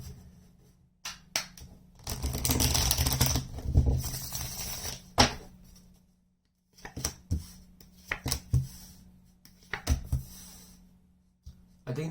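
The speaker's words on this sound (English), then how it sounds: "I'm gonna shuffle." Tarot cards shuffled by hand up close: quiet stretches broken by bursts of soft rustling and sharp flicking, with a longer riffle early on and scattered short taps and slaps after.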